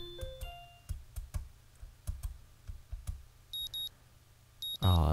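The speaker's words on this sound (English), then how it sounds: "The sound of an alarm pulls me out of a fitful slumber" Alarm clock beeps from the video game Katawa Shoujo, short paired electronic tones repeating twice near the end, preceded by a string of soft clicks and rising game chimes.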